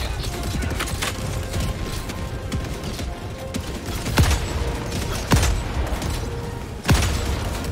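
Sporadic gunfire and a few sharp booming blasts ring out in a Helldivers 2 battle, set against a dense wash of combat noise with scattered mechanical clatter and some voices.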